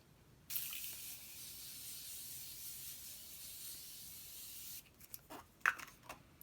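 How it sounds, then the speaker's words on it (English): Morphe Continuous Setting Mist sprayed onto a face: one long, steady close hiss of fine mist lasting about four seconds, then a few soft rubs and small clicks after it stops. "I'm going to go in with the Morphe Continuous Setting Mist. This really does get your face super wet"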